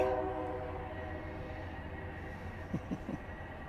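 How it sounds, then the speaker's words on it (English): A passing train gives a steady low rumble, with a horn sounding near the start, and a few short knocking clunks near the end, moderately loud with no talk. "Sorry to interrupt the train"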